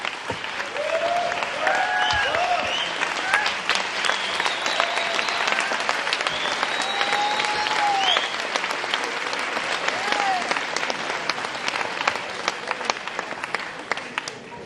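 A large audience at a political discussion event applauds loudly and without a break, with scattered cheers and whistles over a dense wash of clapping that holds steady throughout.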